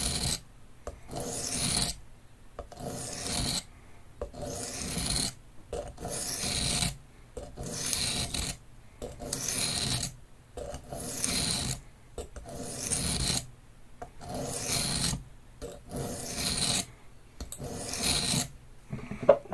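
A knife blade scrapes over a dry sharpening stone with no lubricant. Harsh rasping strokes repeat in an even back-and-forth rhythm, close and loud, with short pauses between passes and no voice.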